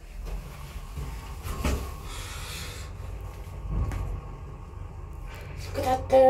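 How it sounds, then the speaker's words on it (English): Techlift elevator doors in a Polish apartment building rattle and knock faintly in a quiet shaft, with a few soft irregular clunks and thumps and a louder clatter at the end. "Those doors are shaking a little."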